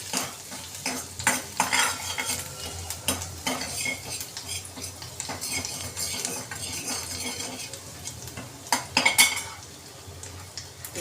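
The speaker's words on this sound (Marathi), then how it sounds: "लसूण चांगला असा परतून घेऊया." Finely chopped garlic being sautéed in a pan for sweet corn soup, with a spoon scraping and stirring against the metal and a soft sizzle underneath, steady and close.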